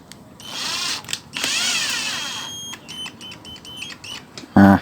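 A power tool tightens a bolt inside an opened Magicom rice cooker during a repair, giving two close, loud whirring bursts, the second longer, followed by clicks and a short thump.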